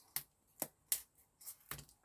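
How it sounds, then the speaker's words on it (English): Dull scissors snipping through cardstock for cardmaking, five or six short crisp cuts spaced about half a second apart, close and quiet with no talking. "Be better if I had a sharper pair of scissors to do this"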